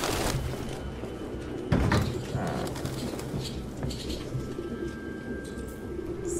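Birds coo in an old barn in the video game Detroit Become Human, with soft repeated calls over a steady ambient bed and a brief thud near the start.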